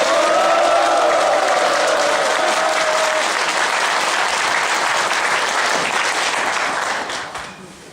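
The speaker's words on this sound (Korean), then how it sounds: "힘찬 박수로 환영해 주시기 바랍니다." A room full of people claps loudly and steadily to welcome Seoul mayor Park Won-soon at a meeting, sustained dense applause that fades out at the end, with a brief whistle-like tone early on.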